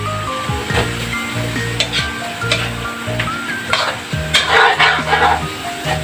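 Bitter gourd (ampalaya) sautéing in a pan with only a little oil, a steady crackling fry under repeated stirring and scraping strokes, close and fairly loud throughout.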